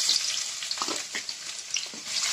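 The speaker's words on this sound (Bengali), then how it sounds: "পেঁয়াজটা লাল করে ভেজে নেব।" Onions dropped into hot oil and frying, a bright continuous sizzle with soft crackles throughout and no voices.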